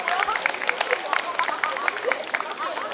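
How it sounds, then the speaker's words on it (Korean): Crowd at a neighbourhood festival to save Songjeong Middle School clapping to welcome a city councillor to the stage, a dense, steady patter of many hands amid crowd murmur. "여러분 박수로 환영해 주시기 바랍니다"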